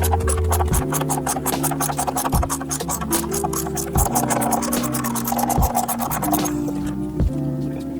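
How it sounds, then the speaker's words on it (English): A ratchet wrench undoes 12mm bolts on the engine guard of a Triumph Tiger 900 motorcycle, clicking in a rapid steady rhythm up close with occasional knocks, loud and with no talking. "we're gonna undo these two 12mm bolts here"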